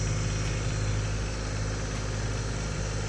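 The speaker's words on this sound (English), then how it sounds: "So I got Tanya on the little tractor, little blue." A small blue tractor engine runs steadily outdoors, a continuous low rumbling drone with no change in pace, loud and close throughout, no talking.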